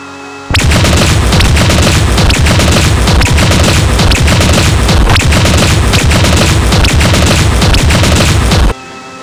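Machine gun fire from the Dragon Raja video game, a loud nonstop rapid burst of shots and booms lasting about eight seconds, starting and stopping abruptly.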